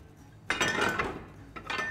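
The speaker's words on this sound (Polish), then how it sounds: "potrzebujemy shaker, bierzemy miarkę i wlewamy po kolei." Gin is poured from a metal jigger into a cocktail shaker for a White Lady, a brief close splash and metallic clink, then a second shorter pour.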